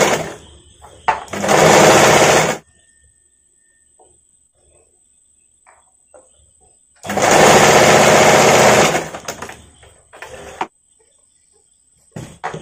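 Close by, a sewing machine joins the back and front parts of a padded princess-cut blouse in two loud bursts of fast stitching, each about two seconds long, separated by quiet handling and a faint steady hum.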